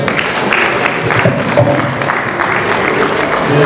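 Guests at a 20-year school reunion party clap together in loud, continuous applause that blends with crowd noise and muffled voices in a large, busy room.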